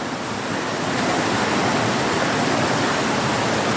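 Fresh water rushes steadily along the Pamulaklakin river, a dense, even roar like a small cascade or fast stream, loud and close with no pauses and no voices.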